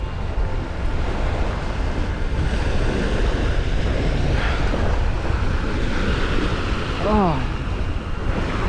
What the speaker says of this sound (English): you can hear the ocean, the waves put you to sleep.